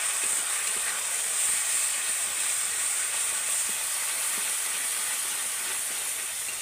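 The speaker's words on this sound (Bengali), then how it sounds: "এবার আমি সমস্ত মশলা একসাথে ভালো করে কষিয়ে নেব।" Spice paste with garam masala and a splash of water sautéing in a pan for a Bombay duck (lote fish) curry: a steady, close sizzling hiss that runs unbroken throughout.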